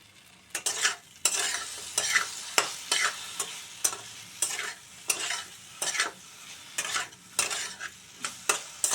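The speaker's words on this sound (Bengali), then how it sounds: "আদা রসুনের পেস্টের সাথে আলু সয়াবিনটাকে একটু কিছুক্ষণ ধরে কষিয়ে নিতে হবে" Fried potatoes and soya chunks are sautéed with ginger-garlic paste, with a rhythmic series of about a dozen spatula scrapes over a soft underlying sizzle, close and distinct with no talk.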